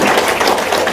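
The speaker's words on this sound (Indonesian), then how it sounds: "Tepuk tangan dong, luar biasa." An audience breaks into applause, a loud, dense wash of many hands clapping at once, close and continuous, with no talk over it.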